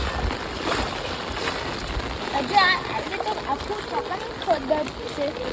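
Heavy rain with floodwater running below, a steady rushing wash of water and splashes filling the background while people talk over it.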